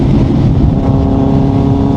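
Kawasaki Z900 motorcycle exhaust in rainy conditions, a loud steady engine drone held close for two seconds with a continuous, even rumble and no talking.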